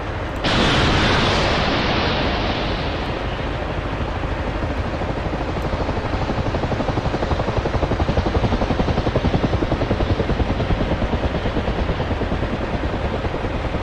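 ATGM missile in DCS World, fired and exploding on a distant chimney: a sharp onset followed by a long, loud, broadband roaring rumble that sustains steadily without talk.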